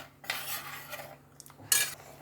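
A metal spoon scraping and clinking against a pot of chicken gravy in a few short strokes, close up, with no talking.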